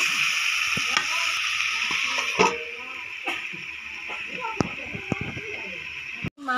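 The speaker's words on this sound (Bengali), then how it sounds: "মাংসটা অল্প অল্প ভাজা হয়ে গেছে" Chicken meat fries in a pan over a low fire, a steady close sizzle with occasional stirring scrapes and clinks running throughout, with no speech over it.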